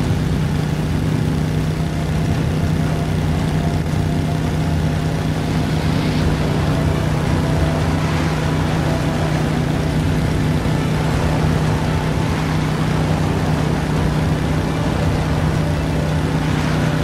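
A steady motorcycle engine hum drones low and constant in the video game Beyond: Two Souls, with a faint whine, moderately loud with no talking.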